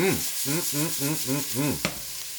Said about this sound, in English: The onions are getting sauteed.